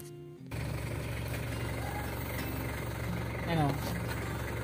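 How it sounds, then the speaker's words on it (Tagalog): A Mitsubishi Adventure engine turns over after a short silence and settles into a steady, close, low idle hum with a faint vibration that holds throughout. "So buksan natin yung makina, ha."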